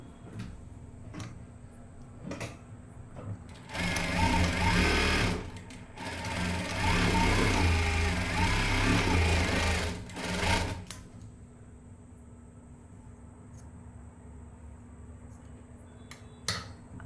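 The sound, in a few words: sewing machine lock-stitching a neckline with a bias strip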